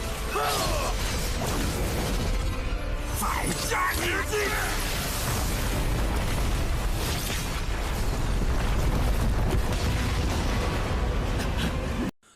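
A huge blast as two attacks collide in an animation, a sustained roaring, rumbling burst with crackling debris that fills the whole stretch at loud, even level before cutting off abruptly.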